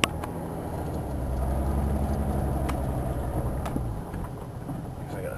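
A car with a custom, home-built exhaust cold-starts and settles into a steady, rumbling idle that runs throughout, loud and close, with a low droning note.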